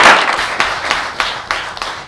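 Supporters applaud at a political campaign event, a short burst of clapping that fades and rises again in several scattered waves, fairly close and lively.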